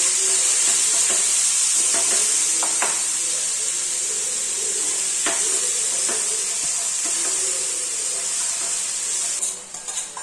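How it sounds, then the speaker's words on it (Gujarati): Garlic paste being stirred into hot oil in a pan, a continuous strong hiss and sizzle with scattered scraping taps from the utensil, close and steady before fading slightly at the end. "હવે આમાં મમ્મી નાખ્યું છે લસણ ગાર્લિક પેસ્ટ. આને મિક્સ કરશે મારી મમ્મી."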